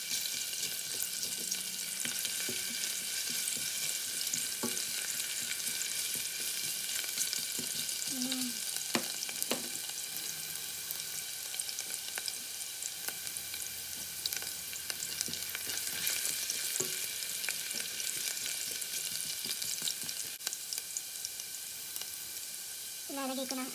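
Ginger sautés in a pan for fish sinigang, giving a steady, fairly loud sizzle with occasional utensil scrapes and a faint voice in the background.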